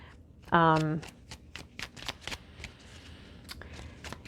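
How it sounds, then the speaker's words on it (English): An oracle card deck is shuffled close by, with a quick riffle followed by soft scattered flicks and taps, while a brief vocal sound rises over the start. "I'm going to pull a life purpose card from the Doreen Virtue deck and just see"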